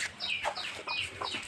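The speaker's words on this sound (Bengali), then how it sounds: "ফার্স্টে দেখতে পাচ্ছি দেশি মুরগি।" Native village chickens clucking on a small farm, a close run of repeated short clucks and squawks in quick rhythm, no talk.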